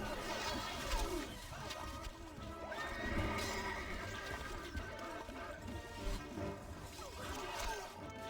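Horses of horse archers in a strategy video game battle whinny and neigh repeatedly over a dense, busy wash of battle noise that stays loud throughout.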